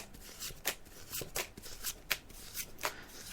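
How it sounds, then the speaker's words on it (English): Tarot cards are laid out on a table in a series of soft, evenly spaced slaps and swishes, close and quiet with no talk. "I'm just laying out the cards now."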